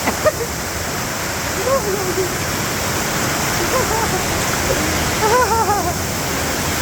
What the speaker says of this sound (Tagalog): Ito na, malakas na agos.